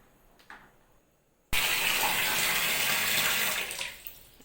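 Shower water bursts on abruptly and runs at full, strong flow as a steady loud broadband hiss, easing slightly near the end.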